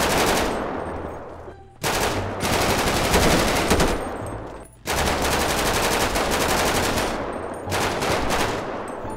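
Sustained automatic gunfire in GTA 5 roleplay shooting practice, with long loud bursts broken by two brief pauses and no talk over the shots.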